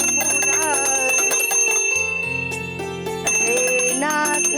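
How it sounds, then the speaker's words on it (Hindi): A bell rings repeatedly during a Hindu prayer at a home shrine, bright sustained metallic tones with layered overtones, loud and continuous with a brief dip before resuming, set against a bed of background music. "अरे दरवाजे की घंटी नहीं, मंदिर की घंटी बजानी है।"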